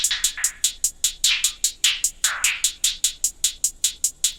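Hi-hats run through effects in a dark string trap beat made in FL Studio, a fast steady stream of bright, slightly washy ticks with swelling rolls, loud and alone without any voices.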